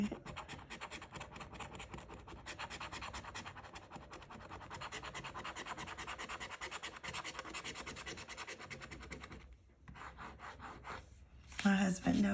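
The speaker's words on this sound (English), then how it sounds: "My husband knows it makes me happy to scratch tickets" A coin scrapes repeatedly across lottery scratch-off tickets up close, a long run of dry, rapid rubbing strokes with a short pause near the end, followed by a louder clatter.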